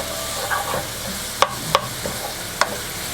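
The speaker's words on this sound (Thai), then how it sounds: "เดี๋ยวผัดเขาให้หอมเลยครับ" Sliced basil leaves stir-fried in oil for garlic shrimp spaghetti, a soft steady sizzle under scraping and several sharp utensil clacks against the pan, no talking.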